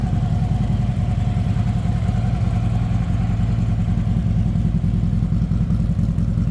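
A 2014 Harley-Davidson Ultra Classic Tri-Glide trike runs steadily at idle nearby, its deep, loping engine rumble loud and continuous throughout with a slight mechanical clatter and no voices.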